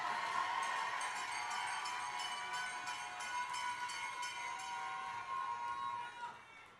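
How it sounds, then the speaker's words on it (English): A Labour Day rally crowd cheering and applauding, with dense clapping and shouts held at a steady level before fading out at the end. "Give yourself a round of applause."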